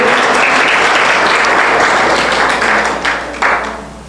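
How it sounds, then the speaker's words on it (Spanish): A church congregation claps loudly in praise, a close, continuous wash of many hands applauding that thins toward the end with a few distinct louder claps. "dale un aplauso al Señor"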